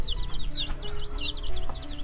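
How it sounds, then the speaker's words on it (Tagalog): Several chickens cluck and chirp in quick repeated calls close by, over a steady low hum of background noise. "Ito yung mga manok niya guys dito."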